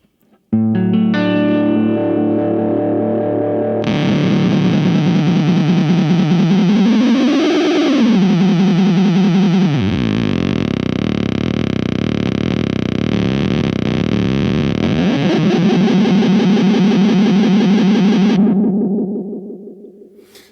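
A loud, sustained distorted electric tone from a HangmanFX Meteoric Echo Monster lo-fi delay pedal with a distortion circuit, with echoing repeats, swelling and bending in pitch for about fifteen seconds before fading out.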